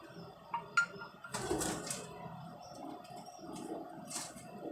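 Pigeons at a pigeon stand give soft cooing calls with a brief flutter of wings, faint and close in a quiet setting, no speech.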